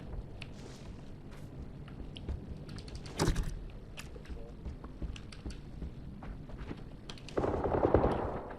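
Gunfire in the PUBG video game on PS4: sharp, irregular shots and rattling bursts, with one louder volley, over a low background of game noise and softer clicks.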